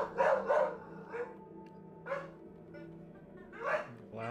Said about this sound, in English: Loud puppy.